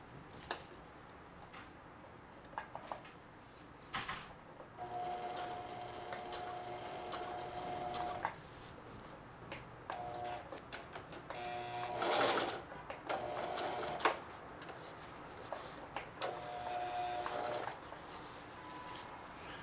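A sewing machine stitches a back pocket onto blue jeans with quiet, rapid mechanical chatter in short runs, broken by pauses and small clicks from handling.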